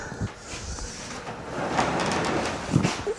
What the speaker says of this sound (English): Get the drawers in there.